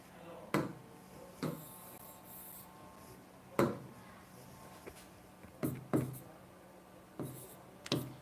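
Chalk or marker writing a chemical formula on a classroom board comes through as a series of sharp, scratchy strokes and taps spaced irregularly, fairly close, with quiet room tone between them.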